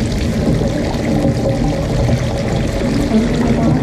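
Water poured slowly from a filled container onto a dog outdoors, a steady continuous splashing pour that runs throughout at close range.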